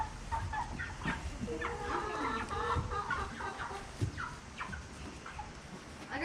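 Chickens cluck steadily in a pen, picked out for a fair, with overlapping close and mid-distance calls and a few sharper squawks.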